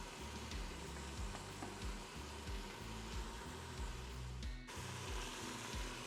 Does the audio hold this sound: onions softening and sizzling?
yes